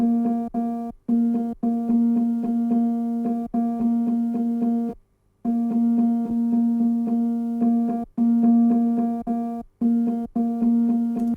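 A piano recording run through a Korg MS-20 synth noise gate: a droning, filtered piano-like tone repeatedly chops in and out at irregular moments, with brief silences between the bursts and one longer gap.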